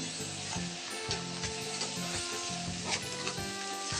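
Flour (atta) is stirred slowly into milk in a pan, with a low sizzle underneath. Regular, unhurried spoon strokes scrape and swish close by, and no one speaks.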